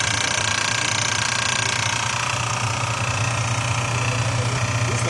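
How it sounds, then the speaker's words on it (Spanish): An electric motor turns the alternator pulleys on a vehicle electrical-system simulator, giving a continuous close mechanical whir and low hum with a fast, steady vibrating rattle. "tenemos el funcionamiento de las poleas del alternador, es movido por un motor eléctrico"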